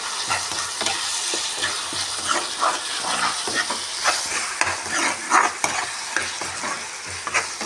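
Chicken stirred in a pan with ginger garlic paste and tomatoes, a loud, continuous sizzle under busy, irregular scraping and mixing strokes, close up with no talking.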